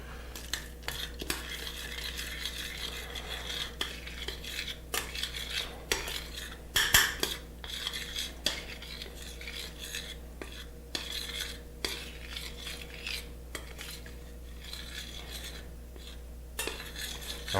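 Chocolate and cream being stirred in a pot on the stove, with soft repeated scraping and clinks of a utensil against the pot over a low hum, and one sharper knock partway through, quiet and close.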